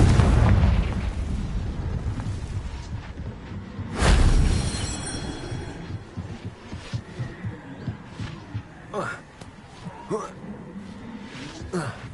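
A Confringo blasting spell in the Hogwarts Legacy video game goes off as a loud, deep explosion burst about four seconds in, standing out over a dense background of game music and effects, with a smaller thump near the start.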